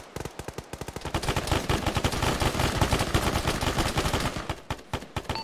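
Rapid bursts of automatic gunfire in the ShackTac military shooter game, dense volleys of machine-gun shots crackling back to back for several seconds, loud and close, with a few single shots at the start and end.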